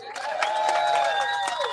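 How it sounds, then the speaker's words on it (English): Applause from a gathered crowd at the finish of a team race, a steady wash of clapping and cheering with tonal voices mixed in, sustained and fairly loud throughout. "big applause for that."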